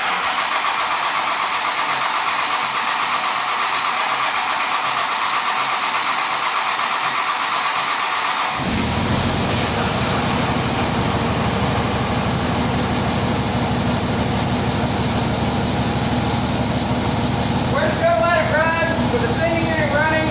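Dodge Cummins diesel pickup cranking and firing up after a fuel sending unit replacement, then settling into a steady, loud low idle that continues to the end.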